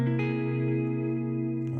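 A single sustained guitar augmented seventh chord rings out with a wet, effected tone, held steadily for under two seconds with no talking.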